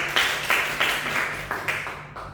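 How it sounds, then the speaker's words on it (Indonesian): Classroom applause from a group of students, a few bursts of clapping pulsing in short waves, fairly close and moderately loud, fading toward the end. "Oke, tepuk tangan buat Rizky."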